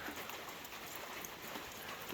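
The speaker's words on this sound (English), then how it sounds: "Ain't raining too hard." Light rain falls outdoors in a steady, even hiss of fine patter that fills the whole stretch, with no distinct drops standing out and no talking.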